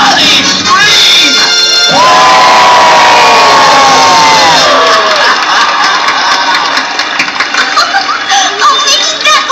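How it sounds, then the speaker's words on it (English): A large crowd of children and adults at Disneyland's Toontown morning show bursts into loud screaming and cheering. High-pitched shrieks swell, hold for several seconds, then fade into scattered whoops and chatter. "Everybody scream!"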